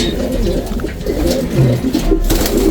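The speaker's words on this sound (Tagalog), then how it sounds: "Bago nating kalapate. Young bird." Young racing pigeons of rare off-colours, black tiger grizzle among them, coo in layered, continuous low murmurs close by, with soft rustling between calls.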